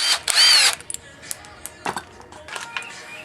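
An impact wrench backs out a bolt during upper ball joint work on a 1992 Toyota 4Runner, giving one loud, sharp burst followed by fainter rattles and clicks.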